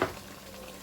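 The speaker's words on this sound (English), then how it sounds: "We're going to add that to the middle of the pot and stir" Cornstarch-and-water slurry stirred into simmering gravy in a pot, a steady low bubbling sizzle with a soft scrape of the spoon at the start, close and continuous.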